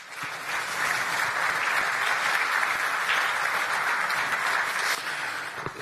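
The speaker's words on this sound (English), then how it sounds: "Give them a round of applause." A conference audience applauds panelists at a business forum, with loud, dense and sustained clapping throughout that stays even from start to finish and only eases slightly at the very end.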